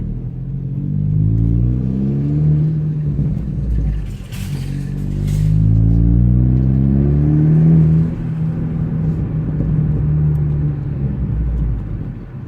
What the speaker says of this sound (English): So this is Resonator and Muffler delete, and just basically straight pipe.